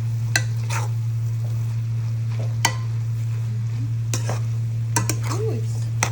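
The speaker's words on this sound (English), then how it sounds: "Let's stir this together." Cabbage and mixed vegetables stirred in a pan, with a few sharp utensil scrapes and clicks against the pan over a steady low hum and faint sizzle, alone without talk.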